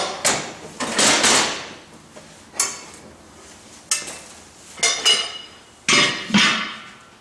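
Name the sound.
removing the fire pot from a home-built portable forge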